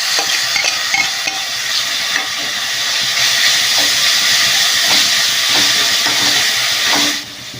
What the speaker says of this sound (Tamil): இப்போ வந்து இஞ்சி பூண்டு பேஸ்ட் போட்டுக்கலாம்